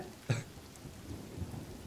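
Rain falling in the survival video game The Forest, a steady soft hiss with a brief low thump near the start and no voices.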